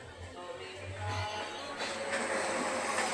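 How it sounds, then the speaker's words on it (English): A train pulling out of Howrah station makes a steady low rumble that slowly builds as it accelerates, with faint rail clatter and some background voices. "Our train is gradually accelerating"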